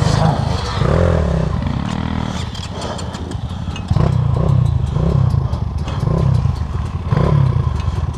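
A motorcycle engine revs and labours during an off-road trophy race near Zamostye. The engine drone is loud and steady, swelling in repeated surges, with some clatter and occasional voices.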